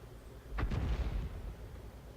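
An artillery shell slams into a Matilda tank during a World of Tanks match, a single close, heavy boom with a sharp initial crack and a rumbling low tail that fades over about a second.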